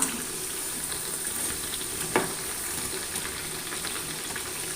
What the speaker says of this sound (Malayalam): നമുക്കത് മറിച്ചിട്ട് മറിച്ചിട്ട് നല്ലോണം ക്രിസ്പാക്കി എടുക്കാം